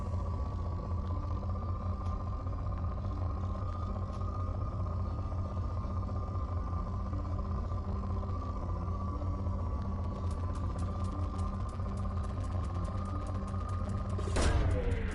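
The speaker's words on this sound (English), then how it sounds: "Launching probe." Mass Effect 2 probe launch over a constant loud engine-like drone and hum, with a crackling texture building late and a sharp whooshing burst near the end as the probe fires.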